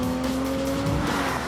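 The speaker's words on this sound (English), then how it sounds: "Flick the car through, using that 4-wheel steering." A Porsche 911 sports car with four-wheel steering is flicked through a slalom, its tires squealing loudly and steadily under a strained engine note, with no talk.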